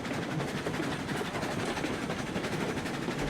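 A steam locomotive in RailRoads Online hauls its train up a steep grade, giving a steady, dense rumble with faint rhythmic clatter that holds at an even level throughout, with no one talking.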